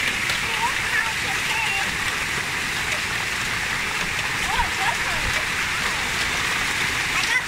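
A hailstorm with heavy rain in Calgary, 2019, comes through as a steady roar of rain and splashing water, with hard impacts scattered throughout and no letup.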